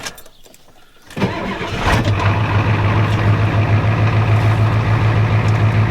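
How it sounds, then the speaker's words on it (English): A 1993 Ford F-250 with a 7.3 IDI diesel cranks briefly and fires up cold without glow plugs at half throttle, then settles into a loud, steady, rumbling idle close by. "we're gonna start without glow plugs"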